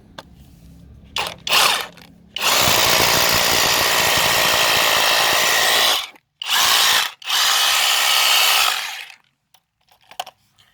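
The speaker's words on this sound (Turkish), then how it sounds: "Bir tane delik delelim bakalım." A Dawreek cordless rotary hammer drills into old, hard asphalt with a loud, close, rattling roar. There are short starts, then a long steady burst and two more runs before it stops.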